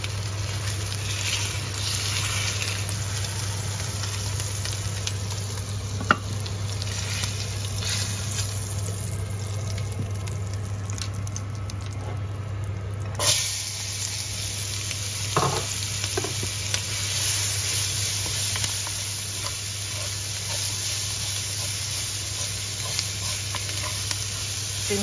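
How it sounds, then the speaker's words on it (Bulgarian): Onion and carrot fry in fat in a pan, a steady, fairly quiet sizzle with occasional stirring clinks and scrapes, running continuously without any talk. "Сега слагаме лука и моркова в същата мазнина."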